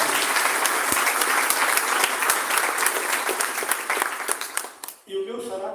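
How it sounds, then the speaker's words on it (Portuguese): Audience at an event marking 75 years of the Carta de Santa Maria breaking into dense, loud applause that holds steady, thins out near the end and stops, after which a voice starts speaking. "Palmas para a Salete."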